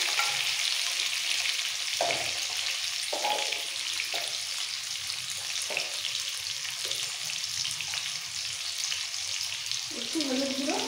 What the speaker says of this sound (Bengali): এবার একদম গোল্ডেন ব্রাউন করে ভেজে নিতে হবে।